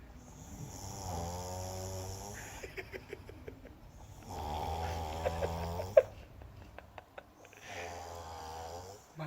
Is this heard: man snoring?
yes